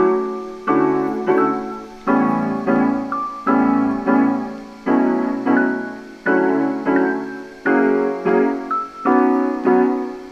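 Warm neo soul chords for a boom bap beat, programmed in FL Studio with a vintage-style plugin, sounding as a repeating sequence of plucked, decaying chord stabs in a steady loop, close and alone.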